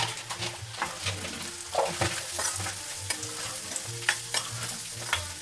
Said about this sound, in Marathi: मसाला ॲड केल्याच्या नंतर पुन्हा आपण सर्व मिश्रण चांगलं परतवून घ्यायचं आहे